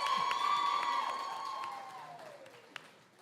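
A crowd at a university white coat ceremony cheers and applauds in a loud, fading wash, with one whistle-like tone sliding down through the noise and a sharp clap near the end.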